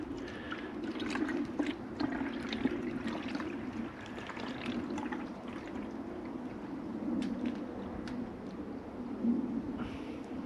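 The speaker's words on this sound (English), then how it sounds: "And whatever water's left, I'll just leave it in the bowl." Leftover water is poured into a bowl outdoors, a steady, gentle trickle and splash with small drips running continuously at moderate level and close by, with no talking.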